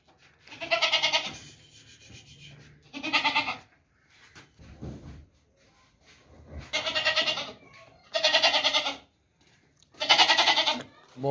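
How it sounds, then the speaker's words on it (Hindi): A hefty, healthy male goat at a livestock sale bleats in a series of loud, repeated calls, about five strong bleats separated by short pauses, with faint background noise between them. "बहुत ज़बरदस्त बकरा है भाई,"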